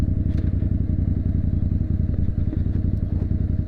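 A motorcycle engine runs steadily and close by while the rider turns right into a U-turn on a street, giving a continuous low throbbing rumble with scattered clatter and thuds.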